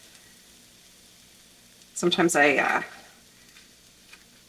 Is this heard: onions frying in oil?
yes